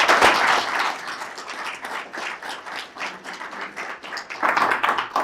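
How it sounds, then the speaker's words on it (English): Round of applause for town council candidates at a forum in a community college facility, close clapping from a modest crowd that swells at the start, thins slightly in the middle and rises again near the end. "So give a round of applause for our candidates."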